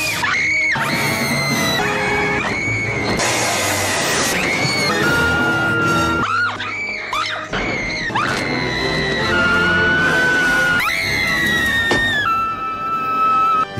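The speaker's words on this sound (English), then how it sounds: "And Vicky Vale screaming." A woman screams in the 1989 Batman film, shrill, sustained cries repeated over about fourteen seconds, loud and close, with brief breaths between them.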